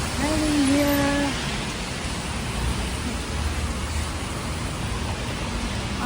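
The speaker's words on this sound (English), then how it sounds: "Raining in New York City." Steady rain falls on a New York City street, a dense continuous hiss spread evenly throughout, with a brief voice near the start over the downpour.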